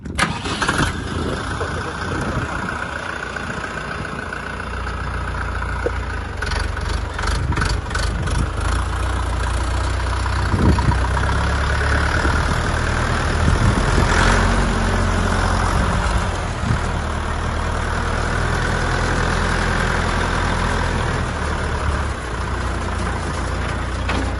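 A Dongfeng 404 mini tractor's small diesel engine chugs steadily at idle close by, with a brief revving surge midway, a continuous low rumble throughout.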